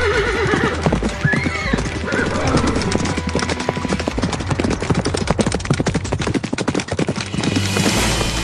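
Horse whinnies and clip-clopping hooves ring out as a sound effect in a Filipino audio drama about mounted knight-warriors falling to spears in battle, a dense, continuous layer of galloping and neighing with busy background effects throughout.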